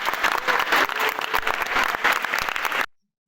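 A crowd of students at a school sports day bursts into loud, dense applause for a running race winner, clapping continuously for nearly three seconds before it cuts off abruptly.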